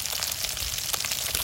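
Fish frying in a pan for a Bengali sour fish curry, a steady dense sizzle and crackle of hot oil running continuously without pause.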